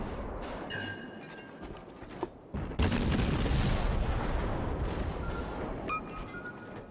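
Kiev destroyer guns firing in World of Warships, a dense run of booming naval gunfire at close range that swells loud partway through, over a steady rumbling battle bed with no talk.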